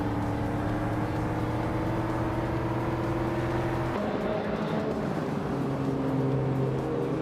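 Steady drone of race car engines in a racing video game, a sustained whine that drops in pitch midway as one car shifts or passes, continuous and fairly loud with no talking.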